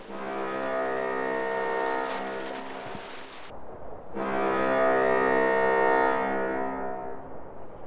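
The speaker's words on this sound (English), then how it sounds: "You can hear foghorn near the game bridge when it's foggy." Two long, deep foghorn blasts near a bridge in fog in GTA San Andreas sound through a low windy hiss, separated by a brief gap, the second slightly louder.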